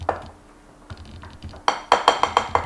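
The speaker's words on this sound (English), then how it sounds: "whisk it all together" Scone batter being whisked by hand in a bowl: quiet stirring at first, then a quick series of sharp, ringing taps of the whisk against the bowl, close up, with no voices.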